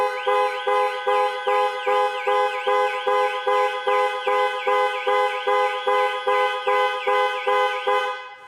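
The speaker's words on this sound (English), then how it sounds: "Press for 3 seconds or press 3 times in 3 seconds and the horn will sound and the hazard lights will flash." Jaguar I-PACE electric SUV panic alarm blaring its horn in a steady, rapid pulsing pattern, loud and close, repeating evenly for several seconds with no voices.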